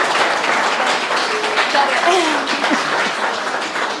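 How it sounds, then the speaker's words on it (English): Wedding guests applauding at a hotel ceremony, a steady, fairly loud patter of many hands filling the room, with faint voices mixed in. "I think that deserves a big round of applause from everybody"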